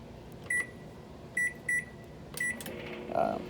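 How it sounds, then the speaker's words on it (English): Several short electronic beeps as a microwave is set, then the low steady hum of the oven running in a quiet room. "Okay, so I'm gonna let that go on in"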